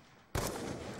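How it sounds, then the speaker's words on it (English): A sudden burst of gunfire in a video game erupts after a quiet moment and keeps rumbling for the rest of the brief second. "Why did you shoot me twice?"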